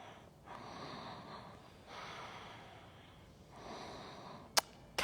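Slow, deep breaths drawn into the chest during a Forrest Yoga pose come in soft, steady waves, each inhale and exhale rising and fading quietly, with a brief sharp sniff near the end.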